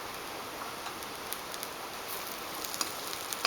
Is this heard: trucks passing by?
no